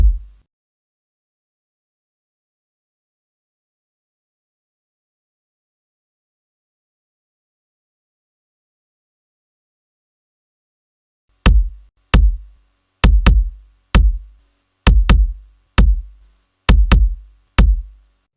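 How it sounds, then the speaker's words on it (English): A layered kick drum built from a Bassimilus module and a sample thumps in an uneven pattern of about a dozen deep, punchy hits with sharp clicky attacks, coming after one opening hit and a long stretch of silence. "we'll make a layered kick with the Bassimilus module and a sample that sounds like this together"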